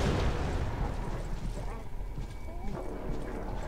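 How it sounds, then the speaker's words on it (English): Grenade blasts in a first-person video game: a loud booming burst at the start, followed by rumbling, crackling explosion noise that stays heavy throughout, with voices mixed in. "Stop throwing grenades, please."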